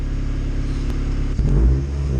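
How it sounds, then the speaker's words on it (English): A Honda CRX engine with decapped injectors idles smoothly and steadily, a close, continuous low rumble with a slight swell in revs toward the end. "Listen how smooth that engine is."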